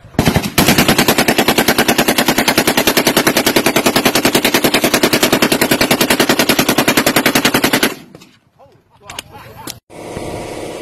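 A suppressed Glock 17 converted to full auto fires a long, rapid, evenly spaced burst at close range, then stops abruptly, leaving brief scattered noise and faint shuffling.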